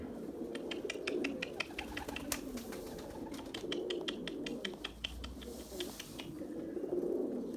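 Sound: pigeons cooing

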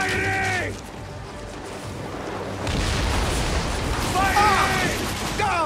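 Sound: ship cannon fire in Assassin's Creed Origins video game

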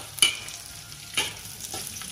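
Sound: anchovies frying in oil

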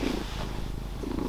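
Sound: cat purring

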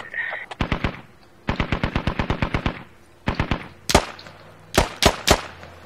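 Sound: machine gun fire in the Squad video game

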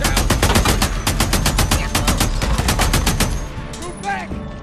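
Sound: gunfire in video game Days Gone

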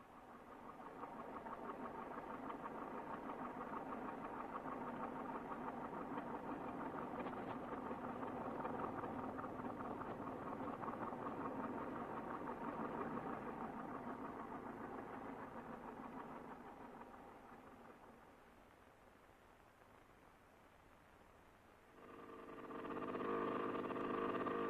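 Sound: tractor engine running down a shaft, powering water pumps

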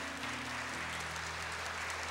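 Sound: church congregation applauding

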